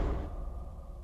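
A storage room door slams shut with one heavy, close thud, then fades out quickly with no talk over it.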